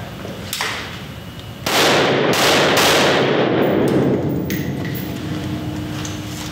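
A 5.56 rifle with an 11-inch barrel and a SureFire WARCOMP fires outdoors, a loud sharp report with a long rolling echo after an earlier fainter shot.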